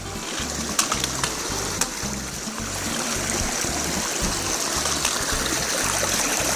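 Creek water runs steadily over sizable placed stepping rocks at a trail crossing, a continuous close trickling and gushing wash with a few brief splashy ticks, no voices.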